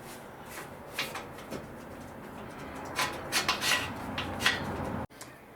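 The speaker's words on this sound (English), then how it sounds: "I'm just going to shave down the other two" Scraping and rubbing from trimming plastic fittings for a Kings 270° free-standing awning on a Land Rover, a series of short, fairly close strokes with light clinks between them over a steady background, no talking.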